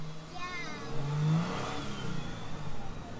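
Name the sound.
2022 Toyota Tundra TRD Pro iForce Max engine revving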